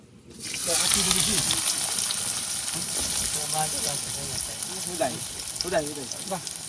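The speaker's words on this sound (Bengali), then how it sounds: "এখন তেলের মধ্যে দিয়ে দেন পেঁয়াজগুলো" Onions dropped into hot oil in a pan, frying with a steady loud sizzle that starts abruptly and continues throughout, while a person talks over it.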